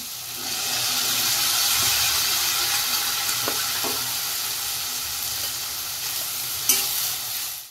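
Green chili and spinach puree sizzle steadily in a hot pan for palak methi pulao, a loud, continuous frying hiss with faint stirring scrapes and a brief clink near the end.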